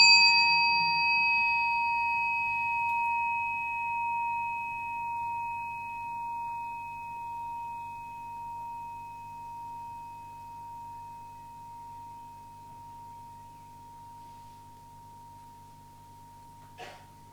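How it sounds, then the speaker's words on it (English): A single meditation bell is invited to sound in a quiet mindfulness setting. One clear struck tone rings out alone and decays slowly with a gently pulsing hum over about seventeen seconds, then a faint tap is heard at the very end. "And you invite the bell to sound."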